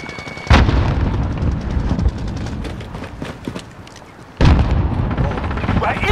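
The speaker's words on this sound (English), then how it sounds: "Oh, grenade out!" Two heavy explosions in Call of Duty Modern Warfare multiplayer on PS4, each a sudden loud blast several seconds apart, amid ongoing gunfire and game voice callouts.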